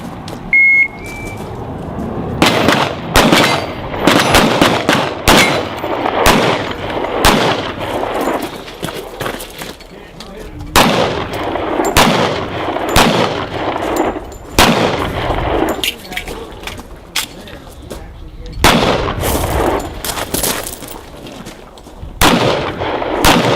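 Repeated gunshots from a Colt Combat Government 1911 pistol built by the Tussey Custom Shop, fired at an outdoor shooting event; loud, sharp reports come in irregular strings and pairs across the whole stretch, with no talking.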